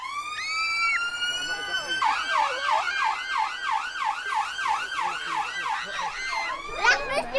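A rapid wailing fire engine siren yelps in fast repeating sweeps for several seconds after a brief tonal horn, steady and fairly close.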